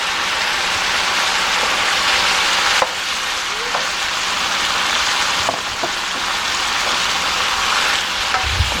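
Shrimp scampi with parsley and pepper flakes fries in a pan with a dense, steady sizzle, punctuated by a few sharp scrapes and clicks as it is stirred.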